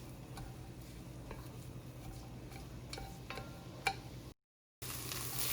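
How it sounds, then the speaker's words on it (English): Onions frying in a pan, a faint steady sizzle with light scattered clicks of a spoon against the pan, quiet and close, briefly cut to silence near the end. "I've been cooking the onions for about 5 minutes now"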